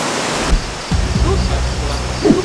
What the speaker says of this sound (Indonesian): beda lah kan dengan suara air airnya bening